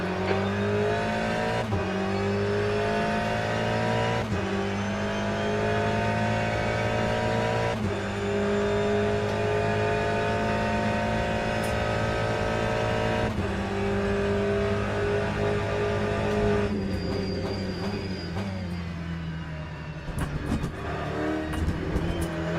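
Race car engines in the Le Mans Ultimate sim roar continuously with repeated upshifts and rising revs, a second car audible close behind, and tire squeal late on.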